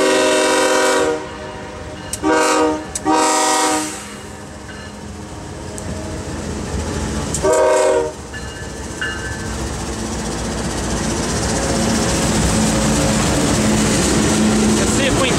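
CSX coal train locomotives pass close by, with loud horn blasts near the start followed by a long, steady roar of engines and rolling cars building toward the end.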